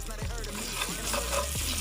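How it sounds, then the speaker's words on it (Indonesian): Shrimp paste and salt frying in a little oil in a pan, a loud steady sizzle with crackling spatters and occasional stirring scrapes, close and continuous. "Selanjutnya kita goreng terasi dan garam dengan sedikit minyak."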